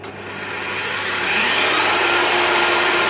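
A milling machine spins up to drill a hole while building an Aussie Invade 5R horizontal stabiliser, its whine rising steadily over a couple of seconds and then holding a loud, even roar.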